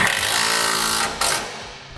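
Power tool running steadily to tighten a bolt on a parking brake cable bracket during a gooseneck hitch install on a 2006 Dodge Ram pickup, loud and close, with a brief dip then continuing whir.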